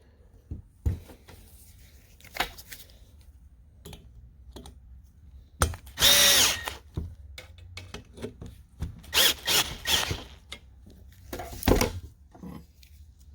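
A power tool tightens a fastener on a BR-600 engine during a shortblock replacement, giving several short bursts of whirring and rattling with quiet clicks and handling noises in between, up close.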